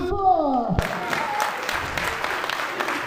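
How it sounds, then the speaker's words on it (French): An audience bursts into applause right after an announcer's voice introduces a wrestler, the clapping continuing as a steady, fairly loud patter with a few voices mixed in. "On peut applaudir très fort."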